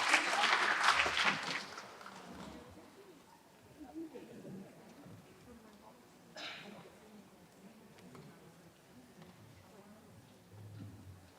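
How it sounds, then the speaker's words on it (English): An audience at a graduation ceremony gives a short burst of clapping that quickly tapers off into quiet crowd murmur and scattered voices, heard from a distance. "Let's give them a round of applause, everyone."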